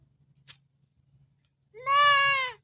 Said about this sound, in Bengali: দৌড়ে হামর মেরে দে ছাগলটি